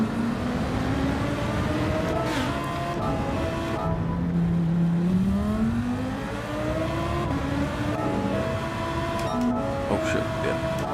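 A Ferrari engine in the racing video game Gran Turismo 7 revs up and down through the gears in a steady, continuous drone, with a voice talking over it.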